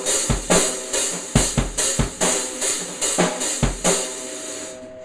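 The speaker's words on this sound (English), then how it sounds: "the fourth sound is halfway down on the pedal and striking it" A half-open hi-hat, pedal pressed halfway down, is struck with the middle of the stick through a slow drum beat, a continuous sizzling wash over evenly spaced kick and snare hits, close and loud.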